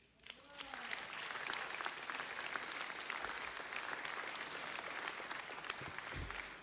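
Sustained applause filling a city council chamber, a dense steady patter of many hands clapping at moderate distance for several seconds, with faint voices mixed in.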